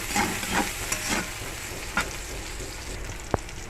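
Bay leaf, chili, clove and cinnamon fry in hot oil in a clay pot, a steady soft sizzle broken by occasional stirring scrapes and a sharp pop near the end.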